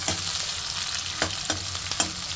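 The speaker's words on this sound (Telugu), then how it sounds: "ఫస్ట్ ఆనియన్ వేస్తున్నాను, పచ్చిమిర్చి, తర్వాత ఆనియన్ వేస్తున్నాను" Sliced onion and green chillies frying in a pan, a close sizzle broken by several sharp spatula scrapes and stirring knocks, no voices.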